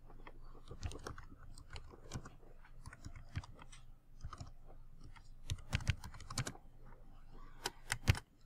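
Someone types on a computer keyboard while editing text in CAD drafting software, producing faint, close, irregular clicky bursts of keystrokes with short pauses between runs.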